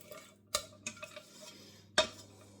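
Cheese sauce for bacon macaroni cheese is scraped from a pot into a pan, with a few sharp utensil knocks against the metal between softer scraping. It is close up and there is no talking.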